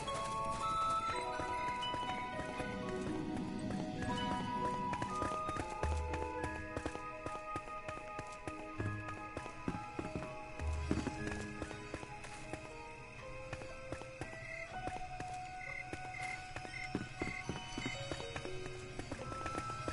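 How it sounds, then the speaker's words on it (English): Horse hooves clip-clopping in the video game Fallout 76, a steady rhythmic trot under game music and effects, continuing throughout at moderate loudness. "I could have just used my horse there."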